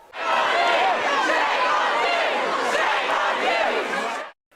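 A dense, loud protest crowd at an evening vigil chants and shouts at police trying to move them on, a massed roar of many voices held steadily for several seconds before cutting off.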